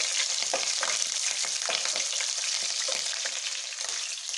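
Green chillies crackle and sizzle in hot oil in a pan for a vegetable rice dish, a dense, steady frying hiss with scattered pops and faint stirring scrapes, close and continuous.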